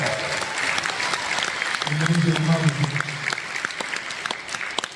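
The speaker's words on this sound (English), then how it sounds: "How about a round of applause for 125 days of acting?" Applause from a NAMM panel audience builds into steady clapping and then thins toward the end, with a voice briefly heard over it.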